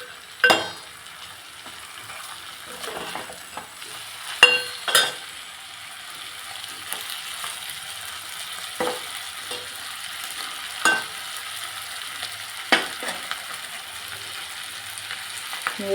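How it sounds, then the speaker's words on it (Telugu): Cluster beans curry frying in a pan, with a soft continuous sizzle and occasional sharp scrapes and clinks as it is stirred, at moderate volume with no voices. "ఇదిగోండి ఫ్రెండ్స్, వేగుతుంది."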